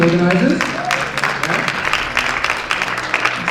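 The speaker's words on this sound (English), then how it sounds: "a bit of a round of applause for them and the organisers" Applause from an event audience for the organisers, a dense steady patter of clapping heard close, with a voice talking over the start.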